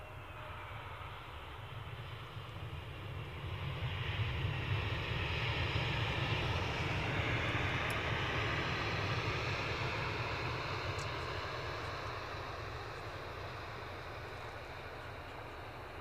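An airliner at Edinburgh airport, either EasyJet or BA, heard as a distant jet engine roar that swells to a peak midway and then slowly fades, with a low steady rumble underneath.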